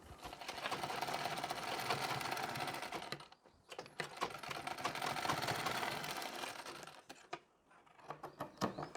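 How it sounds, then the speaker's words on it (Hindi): Sewing machine stitching a Nauvari saree, a steady fast mechanical whir with a few brief pauses and restarts, close and loud throughout. "हम एक बार और सिलाई लगा लेंगे और अब की बार हम सिलाई बारीक टाँका लेकर लगाएंगे"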